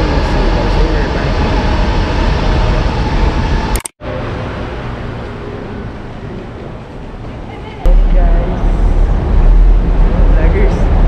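Steady, loud rumbling ambience on a platform at Beitou MRT station in Taipei, Taiwan, dropping out briefly near four seconds and swelling louder toward the end, with indistinct voices mixed into the din.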